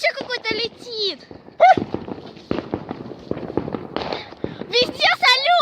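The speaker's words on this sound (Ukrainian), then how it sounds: "Вот салюты! Да, там красивые." New Year's Eve fireworks crackle and pop in rapid bursts, sharp cracks scattered through the night air, while people talk excitedly over the explosions, their voices close and loud against the distant bangs.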